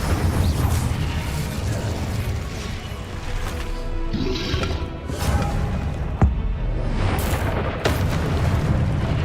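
Confringo and Incendio spell blasts in the video game Hogwarts Legacy, a dense barrage of booming explosions and crashing impacts over a constant rumbling battle bed, with a sharp crack partway through.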